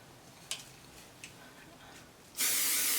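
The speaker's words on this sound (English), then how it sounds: "Add a little spray." Hair spray hisses in a loud, sustained burst onto pinned-down straight hair, preceded by a couple of faint ticks and clicks.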